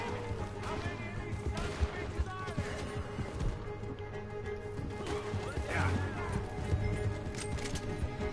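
A horse in the video game Red Dead Redemption 2 runs with clip-clop hoofbeats and a whinny, mixed with other game sounds and occasional sharp impacts.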